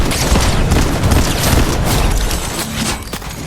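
Shotgun blasts and gunfire from Fortnite Chapter 5 Season 1 Zero Build, a loud, dense stretch of booming shots and clattering game effects that runs without a break.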